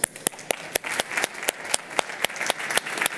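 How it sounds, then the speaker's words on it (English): Audience at a DLD conference session on start-up and corporate cooperation gives applause, with distinct individual claps standing out in a fairly sparse, rhythmic pattern over a few seconds. "Please give a warm applause."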